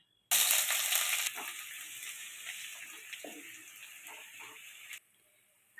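Chopped onion dropped into hot oil with whole garam masala, a dried red chilli and a bay leaf, bursting into a loud, bright sizzle that settles into steady frying with light stirring clicks.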